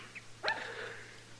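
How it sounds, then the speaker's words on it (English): A small dog out in the street gives a single sharp bark, followed by a short trailing whine, close and fairly clear against a quiet background hum in an old radio western drama. "look at that little old dog out in the street there."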